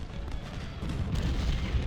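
Civil War cannon artillery fire in the Ultimate General: Civil War strategy game, a continuous rumbling barrage of booms and crackling blasts blended into a dense, steady roar of battle.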